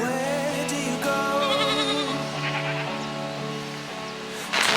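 Several goats on a farm bleat in overlapping, wavering calls, close by and loud, one after another with short gaps.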